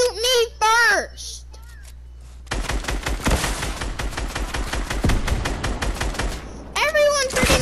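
Rapid gunfire aimed at the player in a multiplayer shooter video game, a fast burst of sharp close shots running for several seconds, bracketed by a young player's excited voice before and after.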